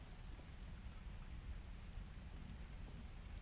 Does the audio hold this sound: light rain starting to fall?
yes